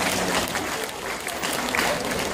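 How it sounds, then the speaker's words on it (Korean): Audience applause at a church anniversary thanksgiving service and rice-sharing event, dense steady clapping filling the whole stretch at close range. "박수 한번 해드려요."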